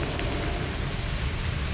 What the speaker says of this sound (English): praise be to Woden and this lovely rain